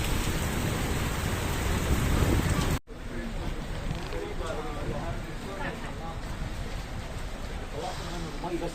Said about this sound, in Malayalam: അത്രയ്ക്ക് നല്ല രീതിയിലുള്ള മഴ.